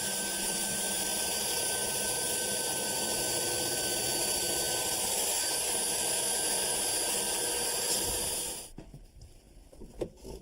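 A power saw cuts wooden scotia stair molding, a loud steady whining drone that runs continuously for about eight seconds and then stops, leaving quiet workshop clatter.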